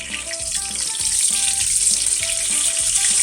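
Duck breast sizzles in a hot pan over medium-high heat, a bright steady crackle of frying fat heard up close and continuously, with no voices over it.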